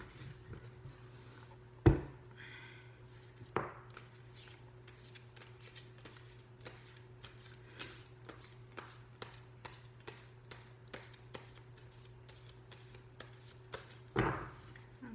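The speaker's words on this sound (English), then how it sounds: "Two more shuffles." Tarot cards are shuffled quietly again and again, a steady patter of soft riffling with a few sharper taps, close by over a faint hum.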